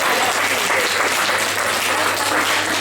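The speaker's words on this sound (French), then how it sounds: "je vous demande un applaudissement." Applause from family and guests at a wedding brunch, dense continuous clapping from a nearby crowd filling the whole stretch at an even, loud level.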